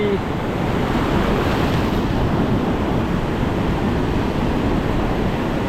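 Stormy sea waves surge in a continuous, loud roar mixed with wind buffeting the microphone, heard at sea during hook-and-line fishing without bait, with no pauses for the full length.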